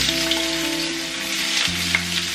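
Garlic sautés in oil in a frying pan, a loud steady crackling sizzle heard close with a low humming tone underneath and no talking.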